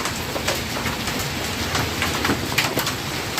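Dry hail falls during a storm over wheat fields, a dense, steady patter of many small impacts with a few sharper hits, close and fairly loud, with no one speaking.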